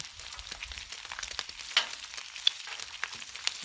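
Bacon sizzling on a Blackstone griddle, a soft, steady crackle with scattered small pops, quiet and close with no voices.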